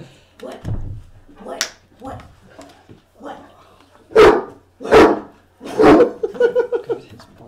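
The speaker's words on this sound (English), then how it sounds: "I was gonna say he doesn't sound tiny when he barks." A small dog gives several loud, deep-sounding barks, closely spaced and up close, with whimpers and yips in between and people talking around it.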